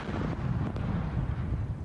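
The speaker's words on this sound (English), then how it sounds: "This test explosion of a real bomb by police played in court" Police test detonation of a real ammonium nitrate bomb, heard as a sustained heavy low rumble and roar with a couple of sharp cracks, loud and continuous with no voices.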